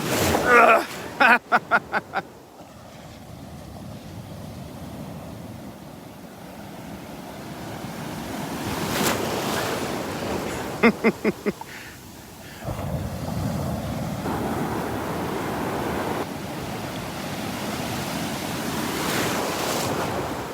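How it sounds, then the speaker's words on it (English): Ocean waves break and surge around someone standing in the surf at Delnor-Wiggins beach, with a rushing roar, gusts of wind buffeting the microphone and a person talking over it. "Wanted to stand out in the waves."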